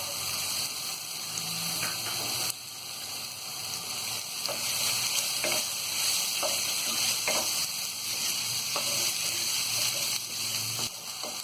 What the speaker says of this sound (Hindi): अब इसमें हम ये मटर को डाल देंगे।